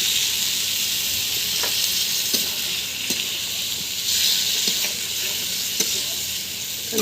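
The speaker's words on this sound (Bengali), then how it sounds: "এখন সবজি দিয়ে দেব।" Vegetables sauté with ground spices in a hot pan for a fish curry, giving a steady, close sizzle broken by scattered taps and scrapes of a spoon against the pan.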